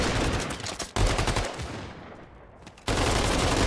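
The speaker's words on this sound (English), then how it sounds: "a little bit of battle going on with some gunfire through the arches at B, but again, no frags just yet, though Sinin" Video game battle gunfire in Blitzkrieg Battle 2 on the Liberation map, with dense rapid shots near the arches. Two loud bursts of firing are split by a quieter fading stretch, and the firing ends abruptly.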